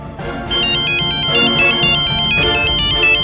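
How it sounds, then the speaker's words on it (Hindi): A melodic electronic phone ringtone plays loudly and steadily, its repeating high-pitched tune looping without pause. "माँ डॉली का फोन होगा, हम उसी को कॉल लगा रहे थे।"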